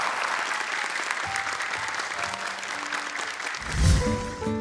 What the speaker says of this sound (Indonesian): Tepuk tangan untuk Sinar